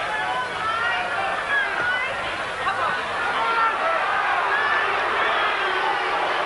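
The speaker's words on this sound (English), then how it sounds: "So the crowd now jeering Smith" A boxing arena crowd jeers fighter James Smith during his 1987 bout with Mike Tyson, a steady dense roar of booing and babble that runs unbroken throughout.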